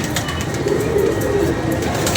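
Pigeons perched up on a rooftop coo softly, their low murmuring calls partly buried under a loud, steady wash of outdoor noise.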